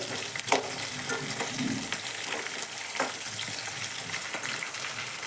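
Ration rice frying in a pan for pulao with onion and chilli, a steady close sizzle broken by occasional scrapes and stirring knocks, with no voices.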